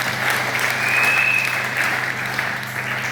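A seated audience at an entrepreneurship training session claps in a dense, steady burst of applause, loud and even throughout.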